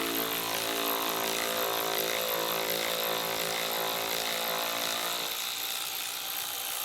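Power tool whirring continuously with a steady high whine while removing 8mm bolts from a plastic corner at the lower air dam of a 2018 Ford Explorer, close and loud, easing slightly near the end.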